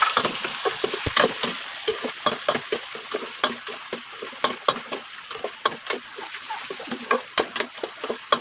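Onion, ginger and tomato frying in a pan for a chicken and green papaya stew, with steady sizzling broken by frequent stirring scrapes and clacks in an uneven rhythm, close and fairly loud, with no talk.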